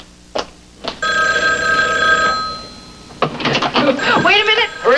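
A telephone bell rings indoors in an early-1980s television drama, a short shrill burst after two soft knocks, followed by excited voices talking quickly.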